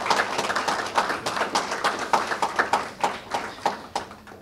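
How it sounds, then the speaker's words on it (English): A crowd's round of applause at a community triage center event, steady rhythmic clapping in a room, moderately distant and continuous without talk. "I'd love if you would just give those folks a round of applause"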